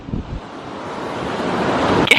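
Ocean surf at a beach, a broad hiss of breaking waves swelling steadily louder, with wind buffeting the microphone and a brief bump near the start.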